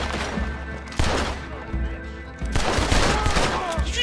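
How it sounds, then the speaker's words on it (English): Carbine gunshots ring out in a Red Dead Redemption 2 firefight in Saint Denis, with two loud cracking bursts and rolling echoes over a busy background din. "Did you just double shoot your carbine?"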